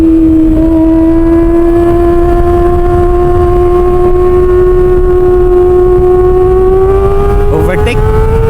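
A big bike overtakes on the road, its engine note rising steadily in a loud, continuous drone that holds close throughout.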